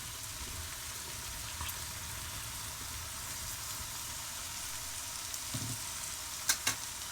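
Pumpkin pieces cut into one-inch chunks dropped into simmering, frying chicken curry in a home kitchen: a steady close sizzle and bubbling with a few faint clinks of a utensil near the end.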